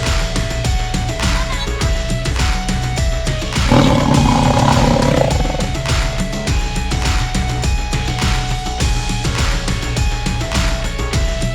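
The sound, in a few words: lion roaring in a cartoon story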